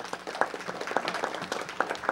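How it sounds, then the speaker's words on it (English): An audience at a council meeting claps in a short round of applause, a scattered, moderately faint patter of hands in a room. "Everyone give them a round of applause again."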